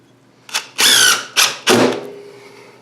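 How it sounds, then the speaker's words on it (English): Four bursts of a power drill whirring, short then longer, each revving up and cutting off, close and loud with silence between; the drill is driving screws into wood for a woodturned lidded box. "we'll drill one screw in at a time"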